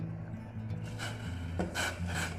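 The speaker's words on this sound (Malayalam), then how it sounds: "നമുക്കൊന്ന് ഇളക്കി കൊടുക്കാം" A spoon scrapes and rubs inside a cup while sugar is stirred into hot black tea, giving a soft, close, repeated stirring sound with a few brighter strokes.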